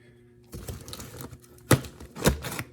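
An X-Acto knife slices open a cardboard box, giving close scratchy tearing and scraping with a few sharp louder rips near the end.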